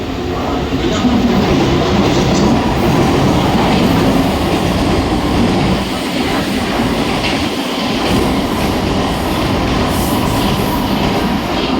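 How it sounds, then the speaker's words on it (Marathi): A fast Mumbai local train rumbles past platform 2 at Chhatrapati Shivaji Maharaj Terminus, its wheels clattering steadily along the track, loud and continuous with faint squeals. "प्लॅटफॉर्म क्रमांक 2 च्या किनाऱ्यापासून दूर एक जलद गाडी जाणार आहे"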